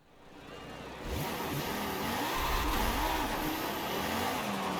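A tuned car in Forza Horizon 5 accelerates hard, its engine note climbing and dipping through gear changes, loud and close with steady revving throughout.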